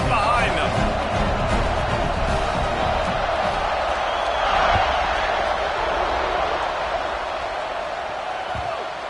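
A stadium crowd in the College Football 26 video game roars steadily in a broad, continuous wash of cheering, with a commentator talking over it throughout.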